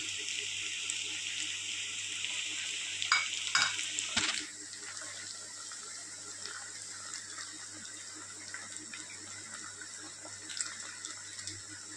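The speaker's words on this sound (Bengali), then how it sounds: "এটা একটু ভেজে নেব" Eggs frying in a pan for Bengali fried rice (bhat bhaja), a steady close sizzle with a few stirring scrapes early on, then a softer continuous hiss.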